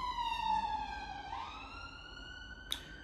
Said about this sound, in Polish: bo jakaś karetka albo policja to by pewnie zagłuszyły mój głos